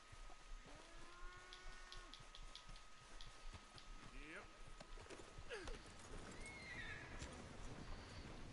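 Horse whinnying and hooves clip-clopping in the Red Dead video game, with a long neigh near the start and more whinnies later, set among steady ambient game noise.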